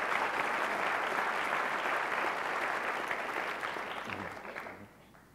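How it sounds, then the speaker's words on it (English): An audience at a State of the City address applauds in a dense, steady wash of clapping that tapers off toward the end. "that's worth an applause."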